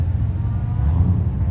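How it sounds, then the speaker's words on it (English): Steady low engine rumble from cars idling and revving at a car show, continuous and fairly close, with no talk over it. "Noisy cars."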